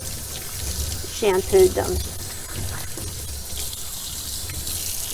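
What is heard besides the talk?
water running while rinsing a Shih Tzu puppy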